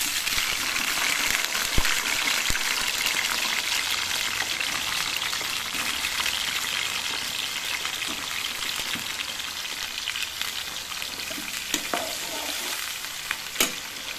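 Raw plantain slices fry in hot oil in a kadai, a loud, dense, continuous sizzle with occasional pops and crackles, close up and with no talking.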